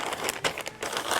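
Butcher paper crinkles and rustles up close as smoked beef chuck ribs are wrapped, with several quick crackling bursts and brief pauses between them.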